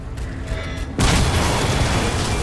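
A grenade explosion in Crysis 2 hits with a sudden heavy boom, then rolls into a loud, sustained rumbling roar, close and alone with no talking.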